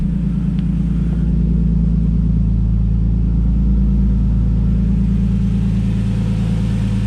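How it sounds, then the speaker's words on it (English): Nissan RB20DET engine running steadily in an S13, a loud, close, continuous rumble with a faintly uneven pulse and no one speaking. "And the engine sounds very healthy."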